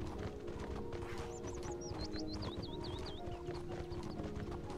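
Hooves clip-clop steadily on a horse in the Mortal Online video game, joined by a rising and falling whinny in the middle, with a dense low rumble of game ambience underneath.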